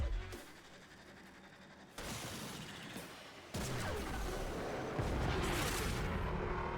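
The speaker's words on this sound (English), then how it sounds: "It's a pretty big bomb." A large bomb detonates in the video game Warframe, giving heavy booming blasts with several abrupt loud onsets that build into a sustained, dense roar of explosions.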